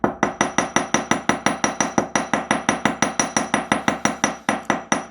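A metal hammer strikes the end of a wire jewellery clasp, flattening it into a leaf shape, in a fast, steady run of about two dozen close, crisp taps with no talking.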